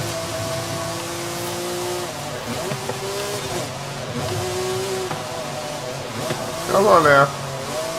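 A Ferrari's engine drones and shifts pitch through gear changes while racing in Forza Horizon 5, with a brief rising rev burst near the end; someone talks over it throughout.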